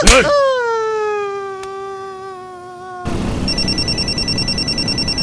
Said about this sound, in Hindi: बेटा सुंदर, जरा फोन निकाल कर दे, किसका है?